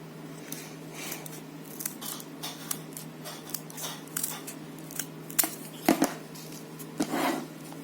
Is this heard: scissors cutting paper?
yes